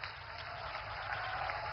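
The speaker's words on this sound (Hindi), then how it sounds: "तालियां जोरदार हो" A crowd claps steadily and evenly at a railway service launch ceremony in Jharkhand attended by the Prime Minister, the applause a continuous, moderately distant wash.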